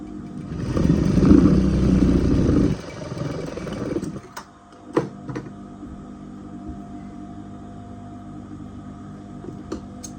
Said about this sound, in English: So I'm going to go right away and then stitch my facing.